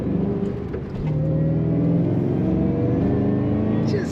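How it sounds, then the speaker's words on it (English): A 2007 Ford Mustang Shelby GT500 accelerates with a steady, close-up engine drone, its pitch climbing while a faint supercharger whine rides on top of the rumble. "Just hear that slight whine of the power adder"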